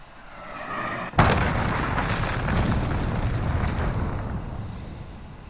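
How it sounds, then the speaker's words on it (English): A cruise missile detonates in Call of Duty Modern Warfare, a sudden loud blast after a quiet second, followed by a long rumbling roar that slowly fades. "Enemy cruise missile incoming."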